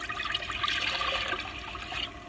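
A steady stream of water splashes and rushes into a coffee maker, loud and close, with no talking.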